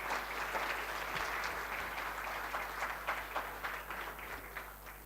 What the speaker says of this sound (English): please, round of applause to our Vice Chancellor